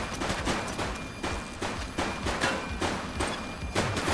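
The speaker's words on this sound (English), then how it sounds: "Shots fired!" Gunshots in The Precinct, a rapid, evenly spaced string of sharp shots, about a dozen cracks in a steady rhythm, loud and close with no voices.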